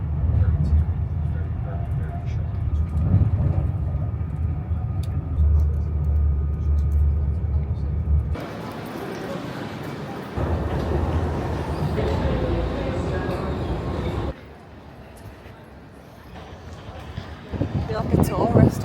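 A steady, low rumble of a delayed train carriage in motion rolls on continuously, with shifts in level and a quieter stretch partway through.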